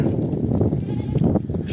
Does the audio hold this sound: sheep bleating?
yes